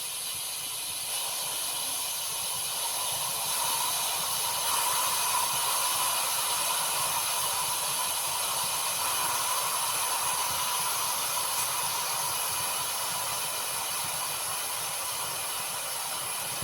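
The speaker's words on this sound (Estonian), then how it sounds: "See tähendab, et aur saab varsti otsa." Steam hisses steadily from a pressure cooker during stewing, a continuous broadband rush that holds at a fairly even level throughout with no talking.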